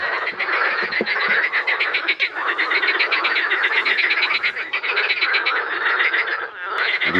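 A dense chorus of frogs croaks at a lake, with rapid, overlapping pulsing calls that continue steadily and loudly for the whole stretch.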